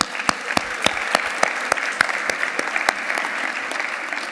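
An audience claps for a woman panel moderator at a women's leadership event, steady crowd applause with sharp individual claps standing out near the microphone.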